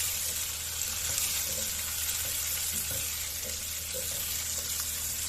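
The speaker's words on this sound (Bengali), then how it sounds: "যেহেতু আমি বেশি ফ্রাই করব না, হালকা ফ্রাই করে নেব।" Mixed vegetables, including carrots and beans, fry lightly in a pan at home while being stirred. A soft, steady sizzle runs throughout, with faint scraping taps of the spoon and no voices.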